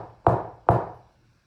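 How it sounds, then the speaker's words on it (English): Two firm knocks on a door, spaced about half a second apart, close and solid with a brief hollow ring after each, alone in a quiet room. "So he went to the door and knocked."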